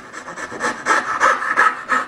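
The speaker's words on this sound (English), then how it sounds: "Grab my fret saw, set it down, cut right across that scribe line." Fret saw cutting wood across a dovetail scribe line, with quick rhythmic rasping strokes, about ten back-and-forth pulls in two seconds, close and fairly loud.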